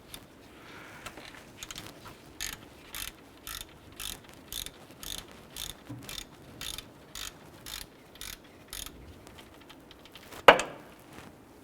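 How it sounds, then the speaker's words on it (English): Ratchet with a 14mm socket working loose the upper alternator pivot bolt on a 2001-2005 Honda Civic, a steady series of about fifteen evenly spaced clicks, fairly quiet, ending in a sharp louder clack. "Using a 14mm socket and ratchet, we're going to go ahead and loosen the upper pivot bolt on our alternator"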